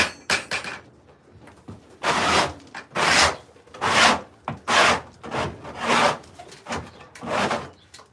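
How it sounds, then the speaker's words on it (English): Close, rough scraping of wood by hand in a workshop, with about eight strong strokes falling at a steady, roughly one-second rhythm after a few lighter passes at the start. "now I got to scrape in here."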